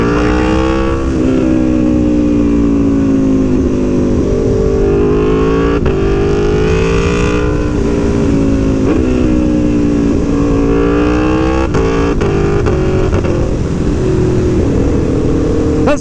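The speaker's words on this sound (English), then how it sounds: "you get more pops from the exhaust" A 2017 Aprilia Tuono V4 1100 on its race engine map revs loudly and continuously up close, the V4 exhaust note rising and falling in waves with a few sharp exhaust pops crackling through.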